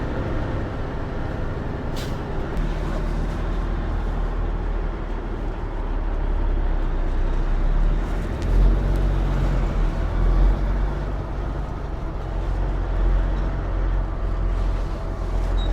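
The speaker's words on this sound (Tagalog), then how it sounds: "May nagbaback up pa pala na truck." A truck backing up on a road, a loud, continuous low engine rumble with air-brake hiss, heard alone throughout.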